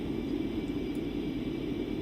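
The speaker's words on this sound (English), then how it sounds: "so you can still hear the airplane fly by" A Concorde airliner passing overhead in a flight simulator game, heard as a dense, steady low roar of engine rumble and broadband noise with no distinct peaks, filling the short stretch evenly.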